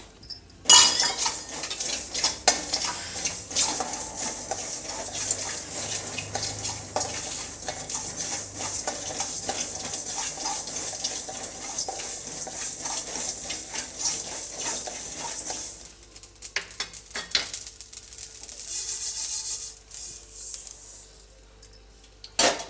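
Mustard seeds roast in a dry pan, stirred steadily with a metal spoon. Scraping and rattling run throughout, fairly close and moderately loud, then thin out toward the end.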